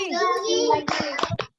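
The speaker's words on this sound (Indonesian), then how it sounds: "Tepuk tangan" Children clap their hands together in an online Zoom class, first singing along, then a quick run of sharp claps near the end.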